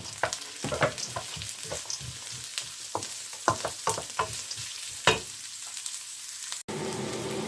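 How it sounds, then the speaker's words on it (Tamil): Carrot, onion, mustard seeds, cumin and ginger paste sautéing in a pan for upma, with a quiet sizzle under a rapid series of spoon taps and scrapes, then a louder, steadier hiss near the end. "இதில் நான் சேர்த்த கேரட், வெங்காயம், கடுகு சீரகத்தோடு சேர்ந்து இஞ்சி பேஸ்ட் எல்லாமே வதங்கி நல்ல ஒரு வாசனை வந்து கொண்டிருக்குது"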